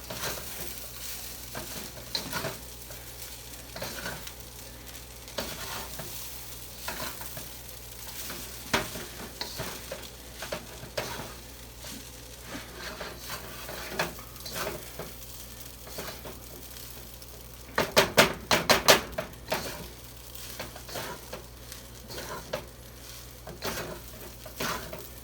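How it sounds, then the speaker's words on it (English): Fried rice stirred in a hot pan: a steady sizzle runs under repeated scraping and clinking of the utensil against the pan, with a brief burst of sharper clatter near the end and no talking. "Now we stir it in. Get it nice and warm in here."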